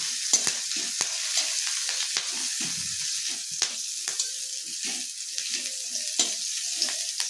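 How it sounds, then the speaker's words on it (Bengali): Ginger, green chili, whole garam masala and bay leaves fry in hot oil, a bright steady sizzle punctuated by sharp spoon taps and scrapes against the pan, close up with no talking. "একটু ভেজে নেব।"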